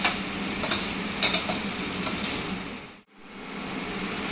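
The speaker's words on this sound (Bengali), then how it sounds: "চালটা একটু ভাজা ভাজা করে নেব" Rice grains sizzle and crackle as they dry-fry in a pan, with a few stirring scrapes, continuous and close, cutting out abruptly before resuming.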